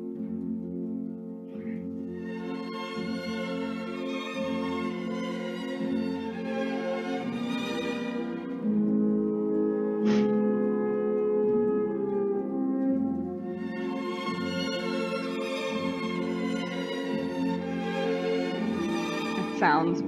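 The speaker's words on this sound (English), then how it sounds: "this is Scène dansante, and it's the entrance of the good fairies" An orchestra plays Tchaikovsky's Sleeping Beauty ballet, the Scène dansante entrance of the good fairies, with flowing string and wind phrases swelling and easing over a steady pulse, a bright accent midway, and no talk.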